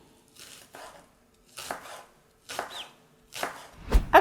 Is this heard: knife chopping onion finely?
yes